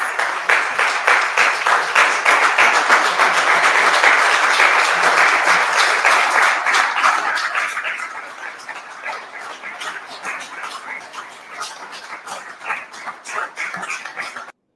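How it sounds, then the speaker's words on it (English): Audience clapping fills a council chamber in a steady, dense wash for about eight seconds, then thins into scattered claps and murmuring voices. "All right, that's enough clapping."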